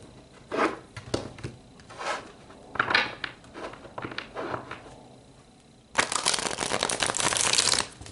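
Tarot cards are shuffled by hand, first in several separate riffling bursts with pauses, then in a longer continuous riffle near the end, close and crisp with no talk.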